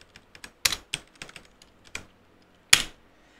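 Short bursts of typing on a computer keyboard as a password is entered, irregular clicks and a few louder key strikes, close and alone with no talking.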